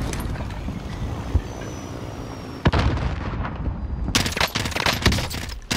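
Heavy automatic gunfire and explosive bursts in Call of Duty Modern Warfare Warzone, loud and dense throughout, with sharp impacts near the start and a rapid chattering volley in the final seconds.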